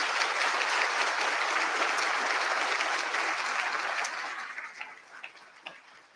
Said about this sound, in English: Please, one more round of applause for all of our partners.